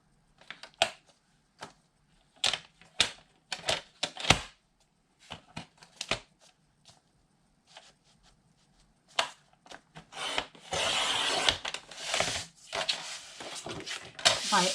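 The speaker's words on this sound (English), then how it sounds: "So let me cut this out and we'll go ahead and put it down." A sheet of paper is cut for a dry-erase clipboard craft: scattered short rustles and snips, then denser scraping and rubbing toward the end, fairly faint and close.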